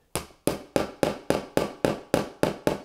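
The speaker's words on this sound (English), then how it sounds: "just give them a little extra tap with a hammer, just until the tone changes." A hammer taps wooden dowels into a panel of an IKEA Malm chest of drawers, with nine sharp, evenly spaced knocks about a third of a second apart, close and loud with no voices.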